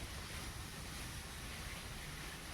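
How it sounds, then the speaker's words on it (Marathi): Wind blowing outdoors in a village makes a steady, even broadband roar with microphone buffeting throughout, faint overall and without voices. "वारा सुटलेले आहे"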